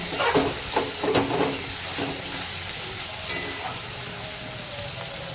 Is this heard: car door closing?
no